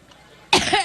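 A politician coughing on the campaign trail in Ohio, a single abrupt, loud throat-clearing cough bursting out after near silence, close and alone.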